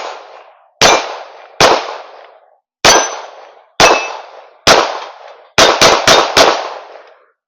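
A Springfield Echelon 4-inch pistol fires about ten loud, close shots at 21 feet: single sharp reports spaced apart, then a quick string of four rapid shots, each with a short ringing tail and no talking.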